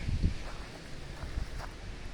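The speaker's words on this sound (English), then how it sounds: "It's a nice windy day here in the Copper Country." Wind buffeting the microphone in low gusts in Michigan's Copper Country, with soft rustling in the background and an occasional thump; no one speaks.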